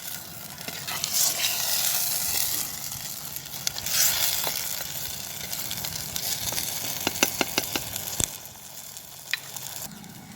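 Mutton biryani is stirred in a clay pot, a soft frying hiss under scraping of a spoon against the pot, with several quick sharp clicks and taps near the end.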